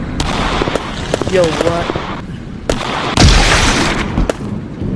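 Gunfire in the war update of the video game Big Scary, sharp repeated shots and booms cracking out in bursts, with a voice briefly reacting over them.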